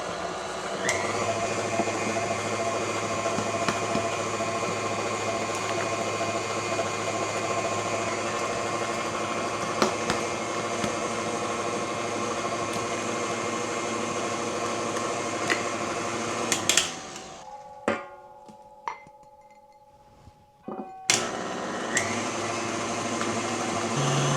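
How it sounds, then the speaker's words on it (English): An electric mixer beats eggs into batter for a chocolate zucchini cake, running as a steady loud motor hum for most of the time, then cutting off into a quieter stretch with a few knocks before starting again. "Gets the table shaking when that mixer goes."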